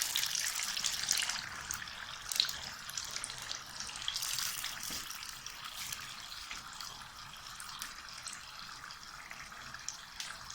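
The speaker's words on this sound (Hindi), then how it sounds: "मैं इनको निकाल के बाकी के जो हैं उनको भी फ्राई करती हूँ" Samosas deep frying in hot oil give off a steady, fairly quiet bubbling hiss with fine crackles, continuous for the whole stretch with no talk.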